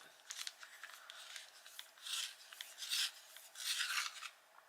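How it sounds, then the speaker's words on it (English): A colouring pencil is sharpened in short, dry rasping bursts, several scraping strokes of varying length and loudness, close and alone in a quiet room. "I'm going to need to sharpen because that's a bit intricate, isn't it?"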